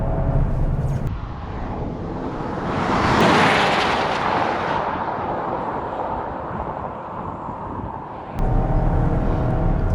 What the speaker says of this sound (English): the engine sounds very much like the old Turbo 4 that VW and Audi have been using for years